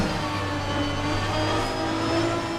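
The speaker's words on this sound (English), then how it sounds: "I've got to get used to how the engine sounds as well" A race car engine in the video game Assetto Corsa Competizione drones steadily at high revs, its pitch sliding gently as it pulls through a gear, continuous and close with no talking over it.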